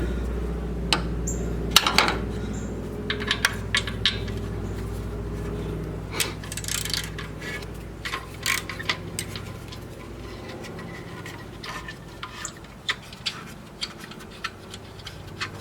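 A 10 mm socket wrench works loose the cover bolts around the AC condenser fan of a 2010 Honda Civic, giving scattered sharp ratcheting clicks and light metallic knocks at close range over quiet background hum.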